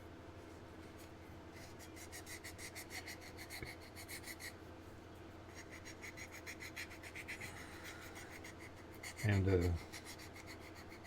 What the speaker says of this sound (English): this is just a regular fingernail file you get at the Dollar Tree or Dollar General